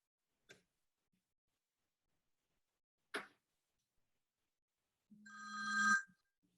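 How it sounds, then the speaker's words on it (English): A telephone rings once near the end of a seminar session, a short bright electronic tone lasting under a second, preceded by two isolated faint clicks in an otherwise quiet room. "There's a phone. Maybe there's a question on the phone."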